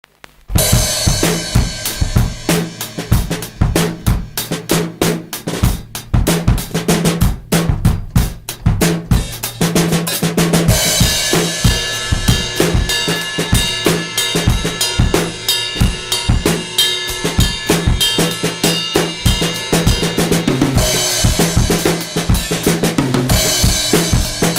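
A full drum-kit groove blending 16th-note bass drum and snare patterns, played steadily and loudly for the whole stretch, with dense cymbal wash filling in after the first several seconds; no voices.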